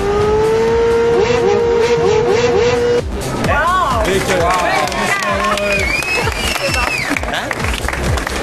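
A voice imitates a revving Ferrari engine at an auto show, with a rising, whining tone that holds and then breaks off. Loud crowd noise and chatter from the exhibition hall carry on behind and after it.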